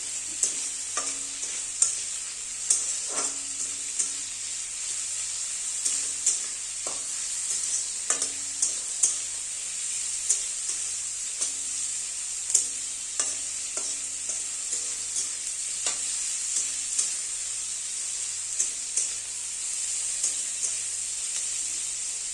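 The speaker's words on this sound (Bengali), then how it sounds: "ভালো করে পেঁয়াজটা ভাজা ভাজা করে নেব" Chopped onion and green chilli frying for ghugni, a steady close sizzle with repeated scraping stirs of a spatula against the pan throughout.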